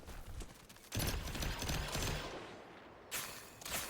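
Rapid bursts of gunfire from a shooter video game crackle in loud, dense volleys, with a brief lull near the middle before another burst of shots.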